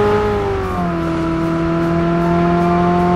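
A McLaren car in PUBG Mobile drives with a loud, steady engine drone, its harmonics dipping briefly then holding constant, close and continuous.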